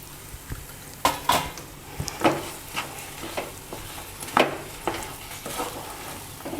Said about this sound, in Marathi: गूळ घालून चांगलं परतवून घ्यायचा